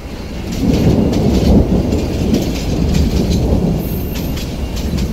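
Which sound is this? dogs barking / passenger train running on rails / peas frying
passenger train running on rails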